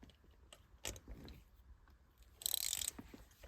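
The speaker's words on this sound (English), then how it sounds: "Take the 13mm socket, drop an extension on it with the ratchets." A ratchet with a 13mm socket and extension works the shifter bolts of a 1995 Mustang GT manual, a few faint clicks and a knock followed by a short burst of rapid ratcheting, close and quiet.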